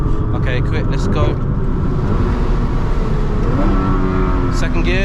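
2000HP Nissan GTR accelerating, heard from inside the cabin as a loud, dense engine drone whose pitch sweeps upward, with brief sharper bursts near the start and end.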